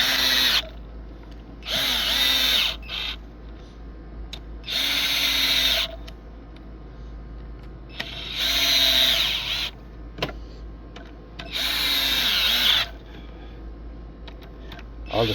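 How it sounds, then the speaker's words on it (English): Power drill driving screws back into an irrigation valve during a lawn sprinkler repair, heard as five loud whirring bursts of a second or so each, separated by short pauses. "All the screws gotta go back on."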